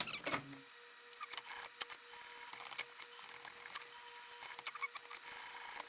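A sewing machine stitches around a corset belt casing, a quiet, uneven patter of short mechanical bursts and clicks with a faint steady whine underneath, heard close and alone.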